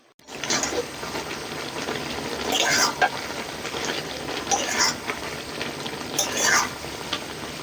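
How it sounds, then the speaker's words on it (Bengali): Sugar being stirred as it melts in a pan for raw papaya gaja, with a spoon scraping and clinking against the pan in a steady, close, moderately loud rhythm over a soft background hiss. "নাড়াচাড়া করতে করতে দেখবেন সুন্দরভাবে চিনিটা একটা পর্যায়ে গলে যাবে"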